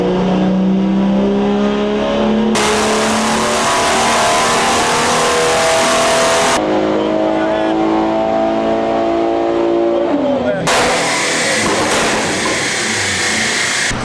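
A stage 3 tuned BMW M140i strains on a dyno, its engine climbing through rising revs in long pulls, with loud roaring bursts and drops between gear steps, close and dominant with no talking.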